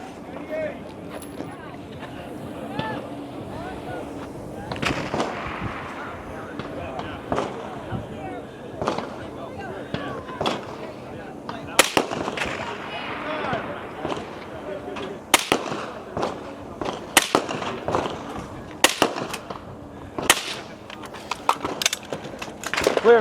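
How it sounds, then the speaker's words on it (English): Rifle shots ring out at a shooting competition stage, the shooter firing at targets about 50 yards out, as sharp cracks repeat at irregular intervals over crowd murmur and a commentator's voice. "back to the firing line with his rifle. Rifle is about 50 yards out."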